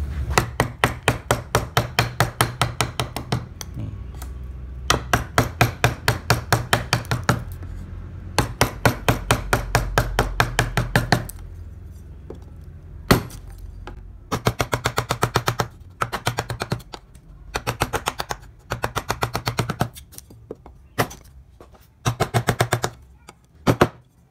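Mallet striking a chisel while carving wood: rapid, rhythmic bursts of sharp wooden knocks, close and loud, coming in runs separated by short pauses, then slowing to sparser, irregular blows.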